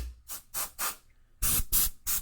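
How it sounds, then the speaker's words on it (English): Compressed air duster sprayed in short bursts into a dirty computer, seven sharp hissing blasts in an irregular rhythm, the last three louder and closer, with no talking. "as I spray this stuff, this compressed air, it kind of used for dusting off your electronics"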